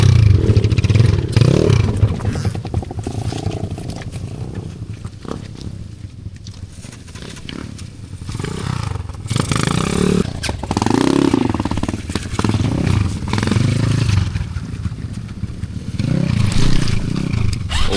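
Motorcycle riding along a rough road near Davao City, with a steady loud engine drone, rattling, clattering bumps and fluctuating wind rumble throughout.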